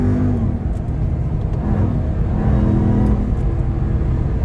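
Ram TRX pickup truck engine accelerating to around 30 mph, a loud steady low-pitched roar from inside the cab, heard alone without talk.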